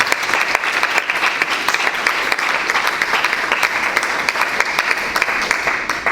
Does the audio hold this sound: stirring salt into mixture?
no